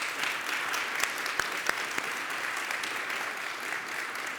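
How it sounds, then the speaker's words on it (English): Applause from a concert audience at a spring chamber-ensemble performance, a steady, moderately faint patter of clapping with a few sharper individual claps standing out, continuing evenly throughout. "Please give her a round of applause."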